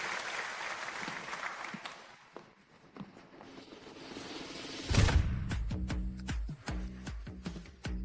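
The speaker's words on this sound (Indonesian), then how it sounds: "Selanjutnya mari kita sambut dengan tepuk tangan kontestan dari Ho Guo." A crowd at a music competition show applauds to welcome a contestant: a short burst of clapping at the start that fades away. A sharp instrumental passage with strong, rhythmic notes follows.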